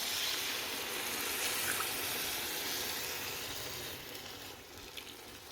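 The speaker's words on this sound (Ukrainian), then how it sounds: "Котлетки підсмажились, заливаю заливкою." Fried meat cutlets with a pour-over sauce simmering in a pan, giving a steady, close, broadband sizzle and bubbling hiss that fades slightly toward the end, with no talking.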